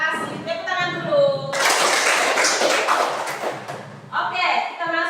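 Students in a physical education class clap their hands together in a burst of fairly loud applause lasting a few seconds, with a voice speaking before and after it.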